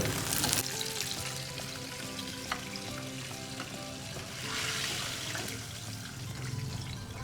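Stuffed Amritsari mushrooms fry in hot oil with a dense, loud, continuous crackling sizzle. Occasional stirring clinks sound throughout and no one speaks.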